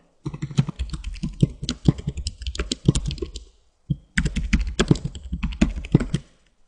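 Quick clacking keystrokes on a computer keyboard come in two bursts of steady typing, separated by a short pause, close and clear with no talk.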